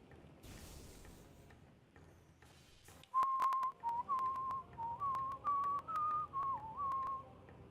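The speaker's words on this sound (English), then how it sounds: "Again, it's just so easy to whistle." A person whistles a wavering melody in short, clear phrases after a quieter stretch of muffled background noise, loud and close with brief gaps between notes.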